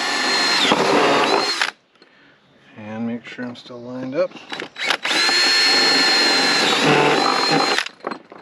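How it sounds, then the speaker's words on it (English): Loud whining power drill runs in two long bursts, boring straight through a traction board in a custom cargo trailer camper, with a short spoken remark in the pause between them. "I'm just going to drill straight through"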